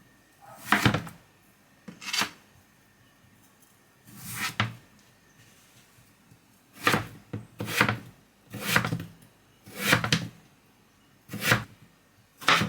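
A knife cuts through Agria potatoes on a board in about nine separate, evenly spaced slices, each a sharp close thunk, with quiet gaps between them.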